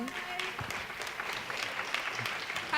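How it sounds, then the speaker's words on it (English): Audience clapping at a school district Black History oratorical competition, a steady patter of applause from a crowd that swells louder near the end, with faint voices mixed in. "I like the claps"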